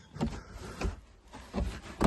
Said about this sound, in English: Window winds down. Click shut.